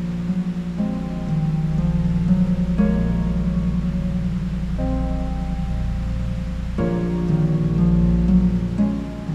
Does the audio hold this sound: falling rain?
yes